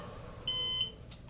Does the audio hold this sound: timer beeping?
yes